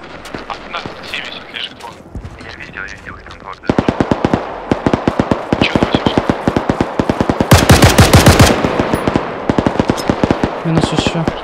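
Rapid bursts of machine gun fire in the video game ArmA 3, sustained and loud, growing denser with overlapping volleys, and quiet talk underneath at the start.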